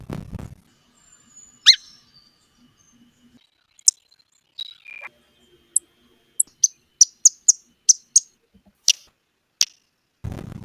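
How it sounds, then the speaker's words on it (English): Sparrow chip calls, a series of short, sharp, high chips spaced irregularly at first then coming in a quicker run, heard against near silence. "most sparrows' calls sound like a chip"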